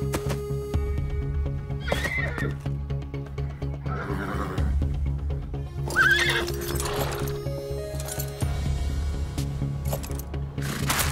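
A cartoon horse neighs and whinnies several times in loud, close bursts, mixed with rhythmic clip-clop hoofbeats and a sustained musical tone underneath.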